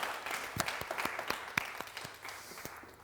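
Studio audience applauding a guest joining a café-style talk show set, a steady wash of scattered claps with sharper individual hits, moderately loud and fading slightly toward the end.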